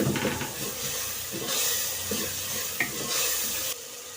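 Spices, including cumin powder, roast in a handi pot for aloo palak. Oil sizzles and hisses steadily under repeated scraping stirs of a spoon, and the sizzle swells in bursts before dropping off abruptly near the end.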